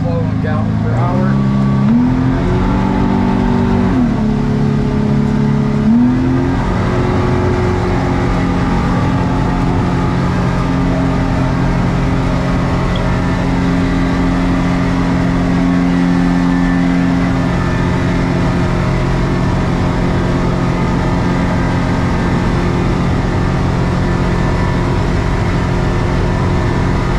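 Twin jet boat engines on a 22-foot North River F-250 jet boat run steadily during a water test, a loud, close, continuous drone that shifts pitch early on, then holds a constant level with talk underneath.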